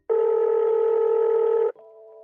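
A telephone line gives one long, steady tone for about a second and a half, then cuts to a quieter, lower tone as the dialing proceeds, loud and alone with no voices.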